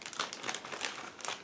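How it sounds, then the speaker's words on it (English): Plastic bag holding thin cockpit panels from a 1/32 scale HPH Models SB2C-4 Helldiver kit being handled, giving a continuous close crinkling and rustling with a few sharper crackles, no talking. "Next we have another plastic bag."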